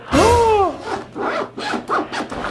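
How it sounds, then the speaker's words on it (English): Lubricated clothing zipper pulled along its track, one quick rising zip followed by several shorter rasping back-and-forth strokes, close and clear. "So let's go ahead and lube up our zipper."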